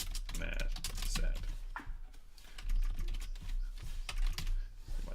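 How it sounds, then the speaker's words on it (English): Rapid, steady typing on a computer keyboard, close and clear, with clustered key clicks and brief pauses between bursts. "Am I typing right?"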